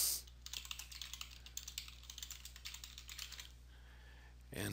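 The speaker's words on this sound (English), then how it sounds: "type the name of the document," A document title being typed on a computer keyboard, a rapid, steady run of close key clicks for about four seconds before the typing stops, over a low steady hum.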